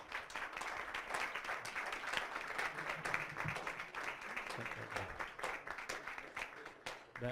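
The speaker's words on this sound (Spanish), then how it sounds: "me gustaría que le diéramos pues un doble aplauso al doctor" An audience at a health talk on diabetes and obesity applauds in a steady, continuous patter of many hands, fairly faint and distant throughout.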